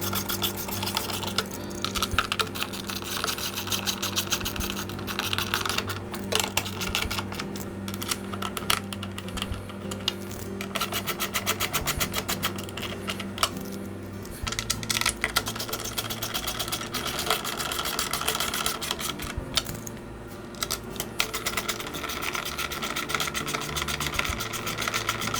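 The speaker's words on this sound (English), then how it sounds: "And I'll secure the cover with the screws." Screws are driven to secure the blower cover on a lawn mower during a flywheel repair, a busy stream of close scraping, ratcheting and rubbing clicks with small metallic taps, continuous and fairly quiet.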